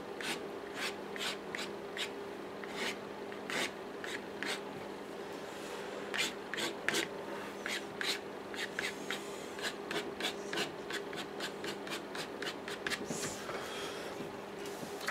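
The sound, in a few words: scraping out watercolour paint on paper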